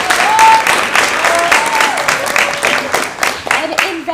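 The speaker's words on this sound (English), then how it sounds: "Another clap for Coach Vaughn" Applause at a women's soccer awards banquet, with a crowd clapping under people talking and cheering.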